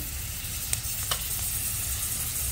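Garlic and green seasoning of celery, shadow bennie and thyme sizzle in hot oil in a pan with curry, a steady crackling hiss with a couple of small pops, close and alone.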